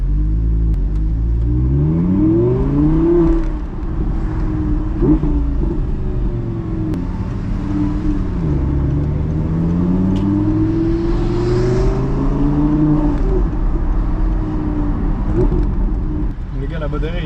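A tuned Audi R8 V10 revs hard inside road tunnels. Its loud, echoing engine climbs and falls in repeated sweeping revs with a deep, continuous roar throughout.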